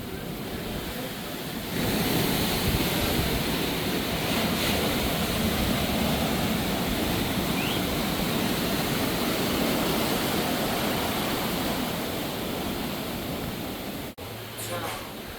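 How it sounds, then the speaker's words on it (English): Rough ocean surf on the Daytona coast roars as a dense, continuous wash of breaking waves, loud and unbroken throughout, mixed with wind rumbling against the microphone. "Kind of rough surf today. Good for surfing."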